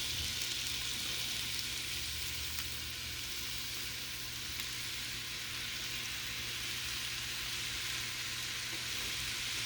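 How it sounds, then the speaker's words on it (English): Thin- and thick-sliced Philly cheesesteak meat fries in a hot pan, giving a steady, dense sizzle that carries on evenly throughout with no voices over it. "That's the sound of the Philly steak meat."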